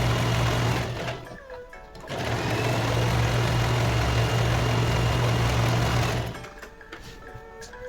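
Sewing machine stitching the sides of a handmade DIY bag, a loud close steady mechanical whir in two runs with a short pause between them.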